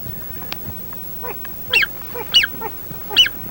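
Wild ducks quacking on a duck hunt in Mexico: three or four short, rising nasal calls spaced about half a second apart, fairly close and clear over faint outdoor background noise.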